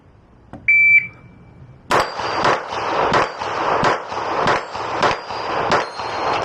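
A pistol, the Taran Tactical JW4 Pit Viper, fires at steel target plates in a rapid string of about eight shots, each one a loud crack followed by a ringing metallic clang. A short electronic beep comes before the first shot.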